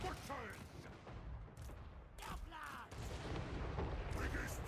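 Artillery cannons fire in a Total War: Warhammer 3 battle, several booming shots in irregular bursts over a dense battlefield din.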